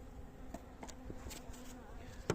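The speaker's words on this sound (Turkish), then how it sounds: "Arı önde çalışıyor." Faint, steady honey bee buzzing drones at a hive throughout, with a few brief louder swells as bees pass close.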